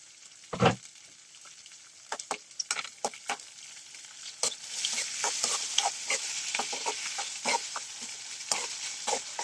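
Thin tomato slices frying in a pan with onion, peas, cardamom and mustard seeds for a home-cooked gobi curry, a faint steady sizzle with scattered stirring clicks and taps.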